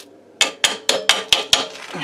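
A hammer tapping a motorcycle rear wheel back into place during a chain kit change: six evenly spaced sharp metallic knocks, close and clear, with no talk.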